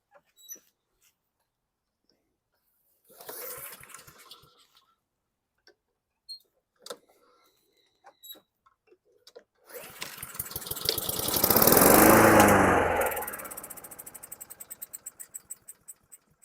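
A 2018 Honda GCV160 lawn mower engine is pulled, catches, surges to a loud close sputtering roar for a few seconds, then dies away into scattered ticks and clicks, with brief rattles of handling before it.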